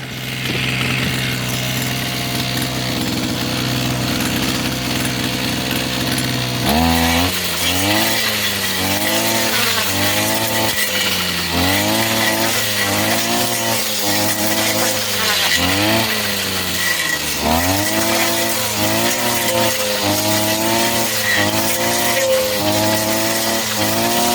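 An Expert BC 330 brush cutter and grass trimmer running: a quiet idle at first, then a loud two-stroke engine snarling continuously, revving up and down in repeated surges.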